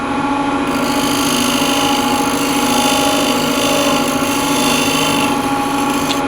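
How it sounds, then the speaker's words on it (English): A skew chisel cuts yew wood spinning on a lathe, a loud, continuous steady whir and scraping hum throughout, with no talking. "So I'm using the side of the skew."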